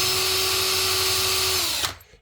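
A power tool whirs at a steady high pitch while deburring and chamfering rifle cartridge case mouths during 6 Arc reloading, then spins down and stops abruptly near the end, close by with no talking.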